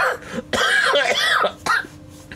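Several harsh, rough coughs come in quick bursts, close and loud, with short pauses between them.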